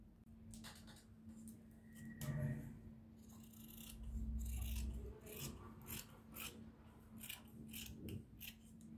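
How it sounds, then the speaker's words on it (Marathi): Scissors snip through blouse lining fabric along a marked line for a 34-inch katori blouse, a run of close, crisp cuts and rasps over steady background hum, with brief speech in between. "तर बघू शकता मार्किंग केलेले आहे तर त्यावरतीच कटिंग करून घ्यायची आहे"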